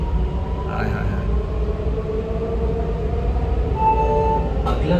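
A Namo Bharat regional rapid train pulls out of New Ashok Nagar station, a steady low rumble and rail hum running throughout with faint tonal whine, heard from inside the carriage, growing slightly louder toward the end with a brief sharper noise.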